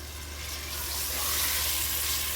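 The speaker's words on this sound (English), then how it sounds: "Stir fry the mutton." Mutton stir fried in a pan with coriander powder and spices gives a steady, close, even hiss of frying that swells slightly partway through, with no talking.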